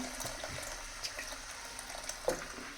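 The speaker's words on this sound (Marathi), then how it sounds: "आपण आता याच्यामध्ये अळणी पाणी टाकून घेत आहोत" Salted water poured into a pot of Maharashtrian chicken curry, giving a quiet, continuous watery splash and bubbling with a few small clinks.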